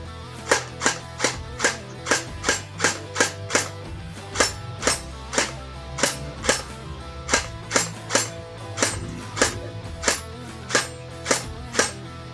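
A long-barreled WD PDX toy gel blaster fires single shots, a run of about twenty-five sharp, loud snapping cracks at a fairly even pace over a low motor hum, with no talking.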